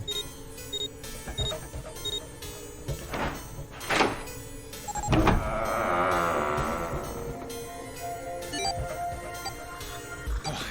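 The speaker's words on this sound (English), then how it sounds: "It's high time we went through that door." A door opens in the puzzle adventure game 999: Nine Hours, Nine Persons, Nine Doors, from the Nonary Games collection. Mechanical clunks and a thud are followed by a swelling whoosh of the door sliding, with game music continuing underneath.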